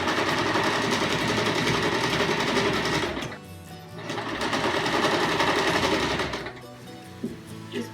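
A sewing machine runs steadily while stitching around the edges of a fabric car seat poncho, two long fast whirring runs separated by a brief pause, close and loud.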